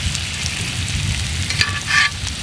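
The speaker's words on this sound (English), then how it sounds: "You can hear that sizzle." Tri-tip and shrimp sizzle over campfire coals in a steady, close crackling hiss with a few sharper pops and spits, heard alone without talk.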